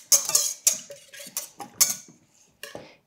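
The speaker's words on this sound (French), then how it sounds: "On remue légèrement." A utensil stirs poolish dough mixture in a bowl, with a series of sharp scraping clinks in an irregular rhythm, close and with no talk.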